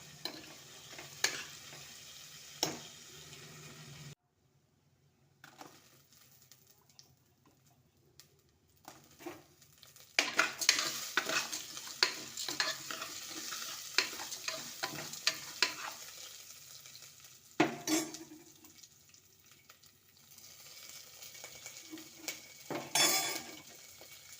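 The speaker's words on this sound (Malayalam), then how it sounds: "തക്കാളി, വെള്ളുള്ളി ഒക്കെ ഒന്ന് ഇട്ടിട്ട് നല്ല വതക്കിയെടുക്കുക" Tomato, garlic and a piece of coconut sauté in a pan with roasted lentils, soft sizzling under repeated scraping stirs of a spoon against the pan, with a brief quiet gap.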